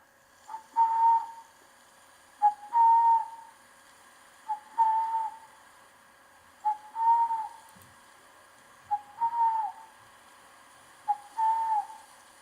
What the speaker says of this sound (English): Burrowing owl, Athene cunicularia.